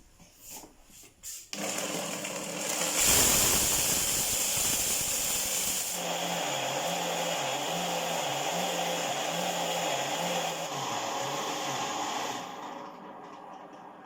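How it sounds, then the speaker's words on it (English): A commercial grinder blender pulse-grinds soya beans: a loud motor whine starts abruptly, then surges and dips in short repeated bursts as the pulse is pressed, running steadily for about ten seconds before cutting off. "this time around we are going to use the pulse to grind it"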